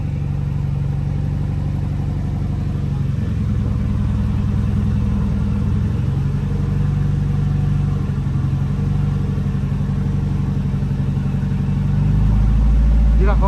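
Drift car engine idling with a steady low rumble throughout, swelling louder near the end as if briefly revved, with talk in the background.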